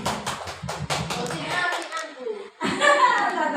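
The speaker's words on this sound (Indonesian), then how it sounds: "tepuk tangan untuk si B." A classroom group claps hands for a student, with a quick burst of separate claps that stops after about a second and a half. Children's voices and chatter follow.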